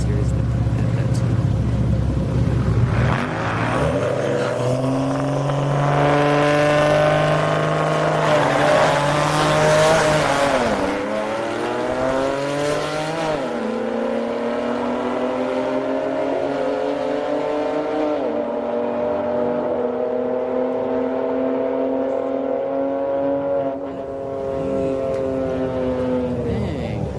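A BMW 2 Series and a diesel D-badge 3 Series drag race on an Orlando drag strip. Loud, sustained engine roar climbs in pitch and drops back with each gear change as the cars accelerate hard.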